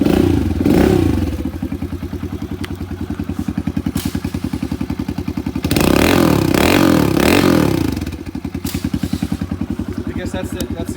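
A Kawasaki KLX110L pit bike engine runs close by with a steady, rapid four-stroke putter, swelling into two brief revs midway before settling back to a throbbing idle.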